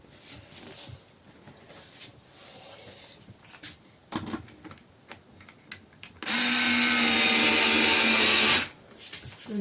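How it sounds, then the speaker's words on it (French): A power screwdriver driving screws into a van's sliding side door, a loud steady whirring run of about two seconds after scattered handling clicks and knocks. "Je ne visse pas à fond."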